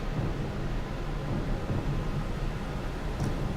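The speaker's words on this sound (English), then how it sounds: "Lost and alone in the storm?" A thunderstorm in the Pillars of Eternity 2 role-playing game at sea, a steady low rumble of rain and wind with rolling thunder filling the whole stretch, loud and continuous with no voices.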